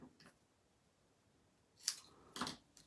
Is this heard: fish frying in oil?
no